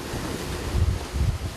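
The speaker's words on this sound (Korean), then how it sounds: "계속해서 집채만한 파도가 원석호를 덮쳐오고" Huge waves surge and crash against the fishing boat Wonseok-ho during rough night flounder fishing at sea, with constant roaring wind and water noise and heavier swells thumping in near the end.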